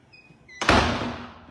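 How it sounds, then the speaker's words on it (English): A door slams shut in a Denver townhome near its rooftop deck, a single loud, close thud that rings and fades, after a quiet stretch with faint high tones. "I'll slam the door."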